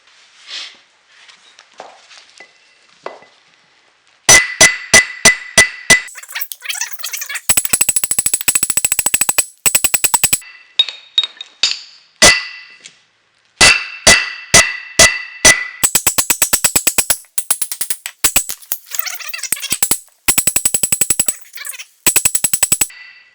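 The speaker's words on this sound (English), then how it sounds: "I'm going to try both hammers" Two hammers strike a steel axe head to cold peen its edge without an anvil, loud close metallic blows coming in fast, dense bursts separated by short pauses, with no talking.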